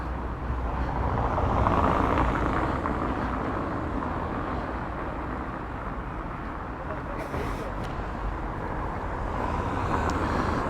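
Cars passing by on a road in Paguera, Mallorca, a steady broadband roar of traffic that swells and eases over several seconds, fairly close and continuous.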